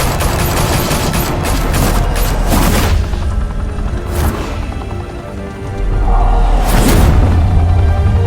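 Gunfire from the Batman Telltale Series video game: a loud, sustained barrage of overlapping shots and booms, easing briefly midway before a heavy rumbling burst returns.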